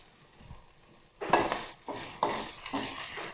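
Ingredients with asafoetida and grated ginger are sautéed in a pan for millet pongal, quiet at first, then a few distinct bursts of stirring scrapes and soft sizzling in an uneven rhythm.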